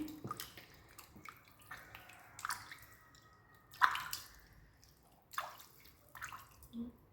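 Mulukhiya leaves are washed a second time in water, producing faint, scattered splashes, drips and soft sloshing at irregular intervals.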